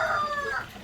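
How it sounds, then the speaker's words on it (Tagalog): Chickens on a small farm plot, a brief burst of clucking and crowing-like calls from fowl nearby, fairly faint and fading out within a second, with no talk. "Yan, ating mga manok."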